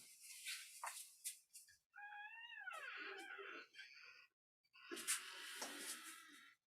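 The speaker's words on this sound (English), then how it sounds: "I think my cats are coming in" House cats coming indoors meow and wail repeatedly, close by, in a series of drawn-out, whining cries broken by brief pauses and rustling.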